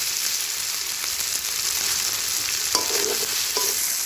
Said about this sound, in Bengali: পেঁয়াজ আর রসুনটা ভাজা ভাজা হয়ে এসছে, এখন এর মধ্যে আদা বাটা দিয়ে দেবে।